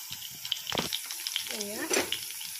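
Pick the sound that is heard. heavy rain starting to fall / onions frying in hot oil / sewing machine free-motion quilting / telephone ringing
onions frying in hot oil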